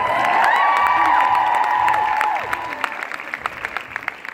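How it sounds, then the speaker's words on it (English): Audience applause and cheering, loud and dense at first with some whoops, then thinning into scattered claps, while a voice carries faintly over the crowd. "give yourself a round of applause"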